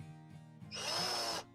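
A power drill-driver whirs steadily while driving a screw during installation of a single-phase miniature circuit breaker fuse box, a loud burst of about 0.7 seconds following a quieter low hum of machinery.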